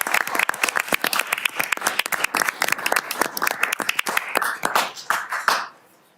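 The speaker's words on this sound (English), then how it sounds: "Please join me in a round of applause." Audience applause fills a city council meeting chamber, a dense, steady wash of many hands clapping close by, then tapering off and fading out near the end.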